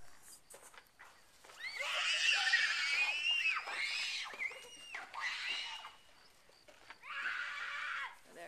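Horses whinny and neigh several times close by, loud rising-and-falling calls in bursts with short pauses between them, and no talking.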